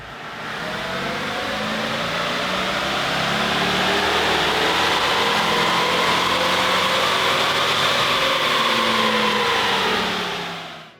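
Supercharged Toyota Tundra engine running on a dyno, a loud continuous roar holding steady throughout with a sweeping high whine.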